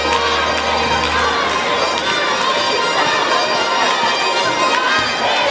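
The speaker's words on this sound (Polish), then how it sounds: "Idzie Patryk, jakieś fanfary dla niego i brawa gorące" A loud, steady crowd roars and cheers with shouting throughout, as an award ceremony podium presentation at an outdoor sports games for people with disabilities in Lubawa, Poland unfolds.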